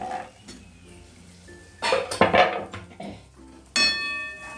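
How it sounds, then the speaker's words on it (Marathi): Chopped tomato tossed into a pan of capsicum curry, giving a few loud metallic clanks and clinks of the pan and utensil, with brief sizzling scrapes between quieter moments. "आता टमाटा टाकला मी"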